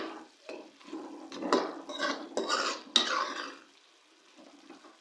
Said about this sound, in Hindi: अब हम कीमे की अच्छी तरह से भुनाई करेंगे